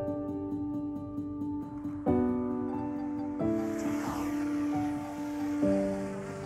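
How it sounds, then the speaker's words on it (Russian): Camera drone flying near Larnaca, Cyprus, giving a steady high-pitched rotor whine with sustained tonal hum that shifts pitch in steps as it manoeuvres, continuous and close with faint wind noise. "давайте, как всегда, воспользуемся моим дроном и посмотрим это с высоты птичьего полета."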